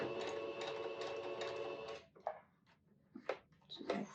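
A domestic sewing machine set to a 2.5 stitch length stitches steadily and then backstitches at the start of a waist dart, a continuous mechanical hum for about two seconds followed by scattered clicks and handling noises.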